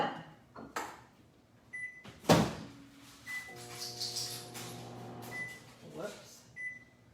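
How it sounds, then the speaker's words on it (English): A kitchen microwave oven starts up with button beeps and a door clunk, then settles into a steady low electric hum. A person talks over it and further beeps and clatter follow nearby. "We're going to put this in the microwave for 30 minutes."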